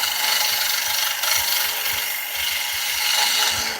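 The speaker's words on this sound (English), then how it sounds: "Like I said, I can cut on both sides of that now." A bowl gouge cuts a beech bowl spinning on a wood lathe, making a continuous loud, close shearing hiss with a faint rhythmic thump from each rotation and no speech.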